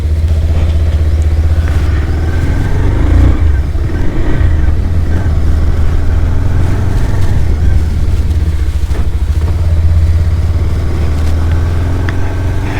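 Bajaj Pulsar 220F motorcycle, a 2021 model in Moon White, on a short test ride: a steady, loud engine drone with low rumble runs throughout, with no talk over it.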